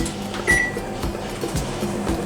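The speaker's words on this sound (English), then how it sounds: "And now we put this into the microwave for" A microwave oven hums steadily while cooking a flaxseed mug bread, a continuous low drone with faint clicks and a brief higher tone early on.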